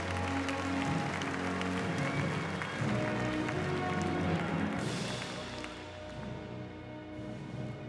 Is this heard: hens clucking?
no